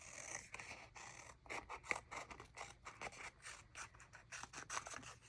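Scissors snipping sticker paper into small squares, a quick series of close, crisp cuts coming in uneven bursts with short pauses.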